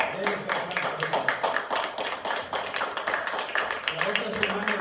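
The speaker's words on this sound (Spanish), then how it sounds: "Denle ese aplauso a Jesús." A church congregation claps together in a steady, dense rhythm of many hands, loud and close, with voices talking over it throughout.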